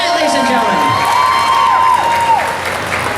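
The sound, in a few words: audience applause and cheering at Ocala Comic Con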